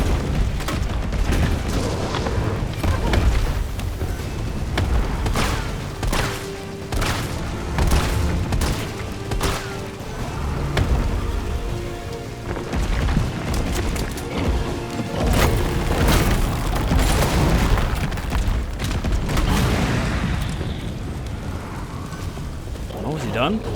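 Mine rounds firing and detonating in the 2020 Resident Evil 3 remake, a dense run of booming blasts and crackling impacts layered over game music and rumble, loud and continuous throughout.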